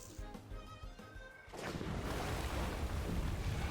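A Tsunami water attack in the TemTem video game bursts in as a loud, sustained rushing surge of water and wind, following quieter game music with tonal notes.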